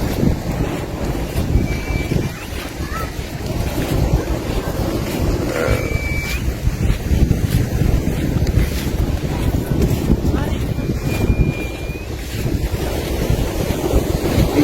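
Big sea waves roll and crash at a resort beach while strong wind buffets the microphone, a loud, constant rushing roar with no break throughout.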